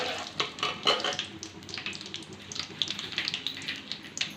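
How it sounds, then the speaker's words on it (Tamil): Mustard seeds crackle and pop in hot oil for puliyodharai tamarind rice, a soft irregular sputtering with quick bright spits scattered throughout, fairly faint and steady with no voices over it. "கடுகு பொரிஞ்சிச்சு, கடுகு போட்டு மல்லாட்டை பண்ணி வச்சுக்கலாம் ஃப்ரெண்ட்ஸ்"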